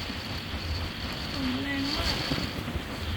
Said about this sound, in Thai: ลม ลมแรงมาก